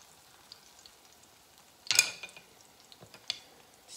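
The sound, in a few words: yellow sweet plantains frying in a pan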